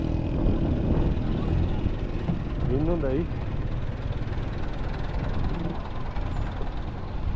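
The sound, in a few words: generator engine running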